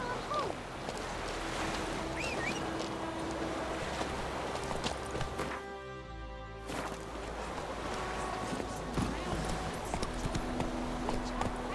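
Roach the horse gallops in The Witcher 3, with a steady, fast clatter of hooves running throughout over wind and ambient noise, pausing briefly midway before resuming.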